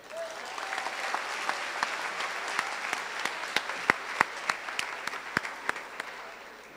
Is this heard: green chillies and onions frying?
no